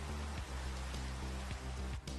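Rain falls steadily in a block-building video game, a dense, even hiss of drops on surfaces, sounding close and loud, with a low droning game tone underneath and no one talking.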